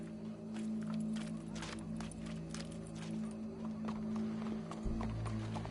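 Steady clip-clop of horse hooves walking in the video game Red Dead Redemption 2, close and even, over a constant low hum, with a louder thump near the end.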